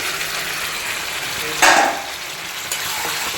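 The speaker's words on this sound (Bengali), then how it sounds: "এবার ভালো করে একটু কষাতে হবে" Jackfruit with potatoes and spices stir-fried in a pan gives a steady close sizzle, with one brief louder scraping hiss partway through and no talking.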